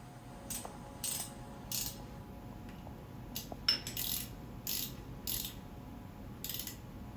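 A screw on a machine vise in a workshop is tightened with a ratcheting handle, a series of evenly spaced metallic clicks and clanks, close and moderately loud over a low shop hum.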